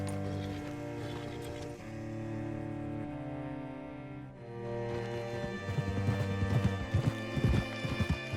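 A horse's hooves clip-clop in a steady walking rhythm beneath sustained music, growing closer and more distinct in the second half.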